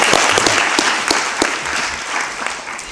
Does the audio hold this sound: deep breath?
no